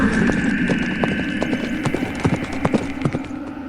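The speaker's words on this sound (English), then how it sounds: "he heard the pounding of horses' hooves behind him" Horses' hooves pound in a steady, rapid clip-clop rhythm over a droning, eerie background hum, moderately close and continuous throughout.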